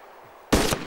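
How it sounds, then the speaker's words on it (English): A single loud, sharp gunshot in DayZ, sudden and close after a quiet moment, with a short ringing tail. "You just shot me."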